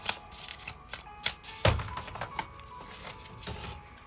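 A deck of playing cards is shuffled in a series of quick riffling bursts and soft taps, close and fairly quiet, with one louder flutter midway and no talk over it.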